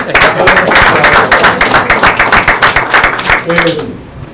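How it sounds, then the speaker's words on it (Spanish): Loud, dense applause from an audience at a business and government event, steady clapping filling the room for about three and a half seconds before tapering off, with a voice starting to speak as it fades. "yo quiero pedir un aplauso"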